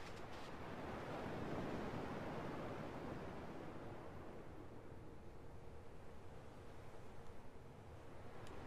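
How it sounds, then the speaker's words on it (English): Ocean waves in the video game Kingdom Hearts 2, a faint, soft surf wash that swells early and then eases into a quieter, steady roll with a light windy hiss. "At least the waves sound the same."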